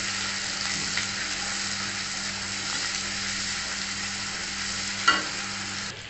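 Fish frying in a pan of oil for a mixed vegetable curry, giving a steady, even sizzle throughout, with one brief louder scrape near the end before it cuts off.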